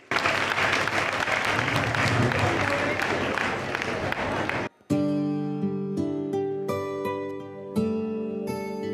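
A crowd at a children's program applauds the kids, dense loud clapping and cheering for about five seconds, then cutting abruptly to music with a singing voice.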